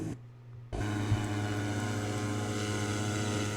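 Cessna 404 twin propeller aircraft engines drone steadily and loudly in flight in the X-Plane 11 flight simulator, a continuous tonal hum that kicks in abruptly after a brief quieter moment.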